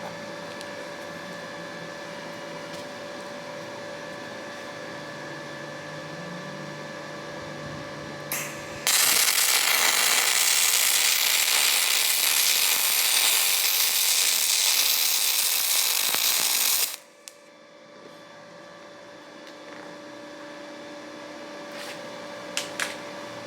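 A DP200 pulse MIG welder running a bead on an aluminum butt joint, giving a steady loud, hissing, crackling buzz that lasts about eight seconds before cutting off, with quieter machine hum before and after.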